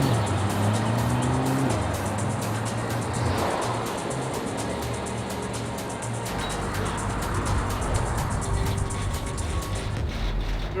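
A C8 Corvette sports car is driven off the road, its engine revving and droning continuously, with tire scrub and gravel-like noise under the steady loud running.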